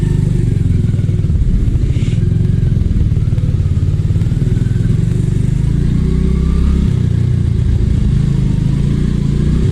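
A Suzuki Gixxer motorcycle rides along on a Kashmir mountain route, its engine a loud, continuous close drone with clattering thumps from the road and no speech.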